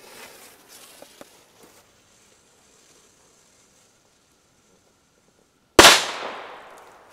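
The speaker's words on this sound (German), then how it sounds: "Das ist ein Big Bang Weko B-Böller." A Weko Big Bang B-Böller firecracker goes off with a single sharp, loud blast near the end, its crackling tail fading over the following second after a quiet stretch with faint rustling.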